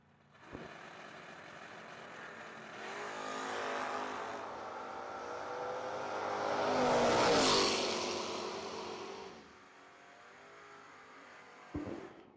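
A 1973 Camaro and a 1967 Camaro launch side by side at a no-delay drag race, engines rising to a roaring pass that swells to a peak and fades away, heard from a distance with no speech over it.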